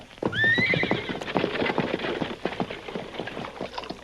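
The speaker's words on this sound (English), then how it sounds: "Come on there, horses." Horses whinny loudly up close, then hooves clip-clop in an uneven, busy rhythm as they move along, with no talking over them.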